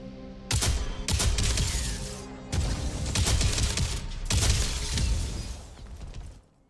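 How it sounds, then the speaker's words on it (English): A multi-tool weapon fires in a video game in three loud bursts of rapid, crackling shots, each a few seconds long and separated by brief gaps. "So the multi-tool is also a gun."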